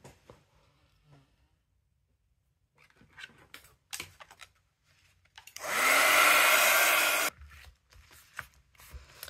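A hair dryer blows on an acrylic paint background in an art journal for about two seconds, loud and close, with quiet handling and rustling before and after.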